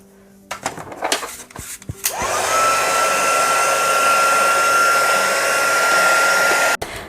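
A hair dryer dries gesso in an art journal. A few handling knocks and clicks come first, then the motor whirs up to a loud steady blowing hiss that holds for several seconds before a brief cut at the end.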